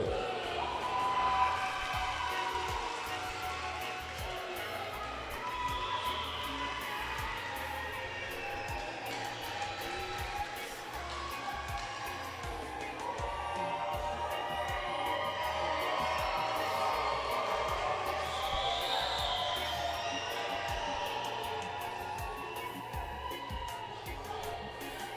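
An audience at a live group performance cheers and applauds for the artist, a sustained crowd roar with whoops, while a voice speaks over it.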